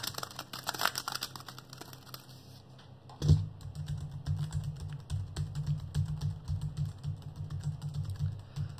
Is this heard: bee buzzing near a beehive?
no